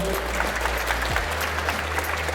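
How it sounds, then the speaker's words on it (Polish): An audience at a live children's science show claps for a young girl on stage. The steady, dense applause fills the whole short stretch, close and continuous, with no voices over it. "wszyscy ogromne brawa dla Emilki"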